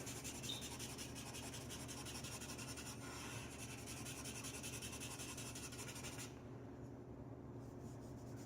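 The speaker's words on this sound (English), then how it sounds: "Rub that in a little bit more, check your finger." Finger rubbing charcoal into a drawing made with Derwent charcoal pencils, a steady soft hiss of skin on paper that runs on without a break, faint and close, then thins toward the end.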